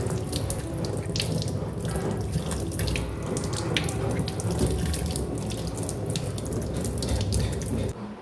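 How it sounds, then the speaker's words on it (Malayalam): Running tap water splashes steadily as a banana flower is rinsed under it, close and continuous for several seconds. "ഇനി ഈ വാഴക്കൂമ്പ് നന്നായിട്ടൊന്ന് കഴുകിയെടുക്കാം"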